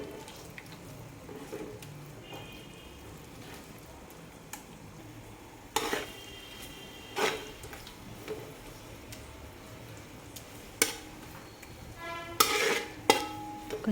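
Browned fried onions cooking with ginger garlic paste in a pan for chicken dum biryani, with a faint, steady low sizzle and scattered stirring scrapes and clinks, louder near the end.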